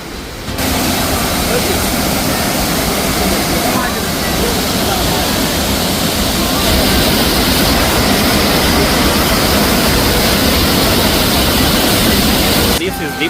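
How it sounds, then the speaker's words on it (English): Thiba Falls waterfall crashing down in a loud, continuous roar, heard from close by and filling the whole scene without a break. "the noise of the water crashing down the fall"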